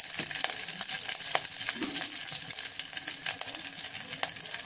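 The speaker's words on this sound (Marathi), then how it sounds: "ह्याच्यात टाकू आपण कढीपत्ता" Curry leaves crackling in hot oil with a green chilli and coriander paste, a continuous moderate sizzle dotted with small pops and a few light stirring scrapes, no talk.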